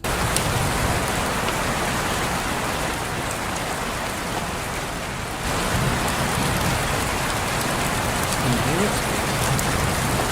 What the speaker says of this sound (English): Just give me a open window rain sounds.